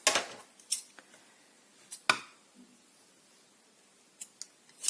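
Sharp metallic snips of scissors trimming thread flush during a children's Mother's Day craft, a few isolated crisp clicks spread out over quiet, close and clear with no voices.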